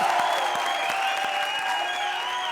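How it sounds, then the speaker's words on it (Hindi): A stand-up comedy audience applauds, a dense steady patter of clapping heard at moderate level with a faint musical tone running beneath it. "जोरदार तालियां."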